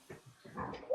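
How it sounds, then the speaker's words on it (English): Two dogs wrestling indoors in an 1875 farmhouse, heard as a brief burst of low growls, snorts and scuffling grunts in the background, rising to a louder snarl at the end. "Don't mind the sound of the dogs wrestling in the background."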